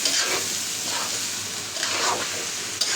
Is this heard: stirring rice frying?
yes